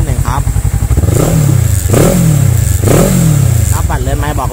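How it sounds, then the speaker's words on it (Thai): A 2013 Kawasaki ER6N 650cc motorcycle engine idling close by, then revved three times in rising and falling sweeps, loud and near. "เดี๋ยวขออนุญาตเปิดเครื่องให้ดูรอบการทำงานของเครื่องยนต์นิดนึงครับ"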